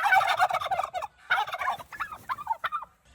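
Caged turkeys gobble loudly in reply to a call, with several rapid rattling bursts that overlap and fade, then scattered shorter gobbles close by with no talk.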